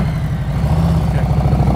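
A motorcycle engine idles close by with a steady, low, throbbing pulse throughout a short stretch, and no voices.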